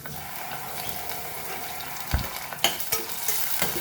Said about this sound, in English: Let's add around 1 tablespoon of oil and our curry leaves in this and our chilies. Let us fry our chilies.